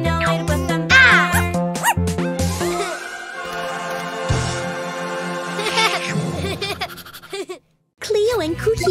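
A dog barks within a cheerful children's song, the "If you're happy and you know it" tune, mixed in with singing and bright backing music.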